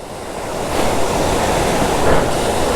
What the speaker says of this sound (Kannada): ಅಬ್ಬಿಮಠ ಫಾಲ್ಸ್